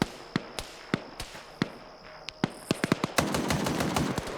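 Rapid gunfire in a 120-player one-life multiplayer PvP shooter, with sharp single shots at first, then a dense cluster of quick cracks over a rising background of distant fire.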